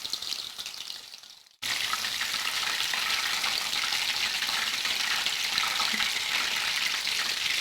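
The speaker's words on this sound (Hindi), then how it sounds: "बस इतना ही फ्राई करेंगे, इस तरह का रंग आना चाहिए" Chicken shashlik sticks frying in oil over medium heat, a bright, steady hiss that starts abruptly after a quieter opening and continues evenly up close.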